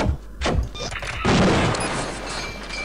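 Bursts of gunfire crackle and boom in the video game Gunman Chronicles, a few sharp shots followed by a long, loud rolling burst of noise.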